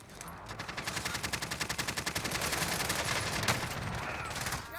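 Rapid gunfire from Call of Duty with an FR 5.56 rifle, a quick rhythmic burst of about twenty shots followed by denser continuous shooting, loud and close, ending in a fading tail.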